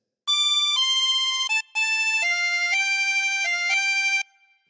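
A chromatic harmonica plays a phrase of Auld Lang Syne as a slow run of sustained, bright reedy notes that step up and down in pitch, loud and close, with one brief pause before the phrase ends.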